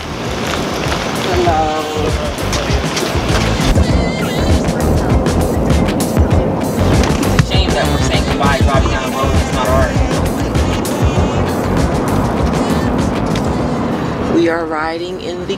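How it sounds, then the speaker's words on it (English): A car ride to Newark Airport in New Jersey, with steady engine and road rumble and tyre noise filling the whole stretch, while voices talk now and then over it. "We are riding in the car for the last time to Newark Airport"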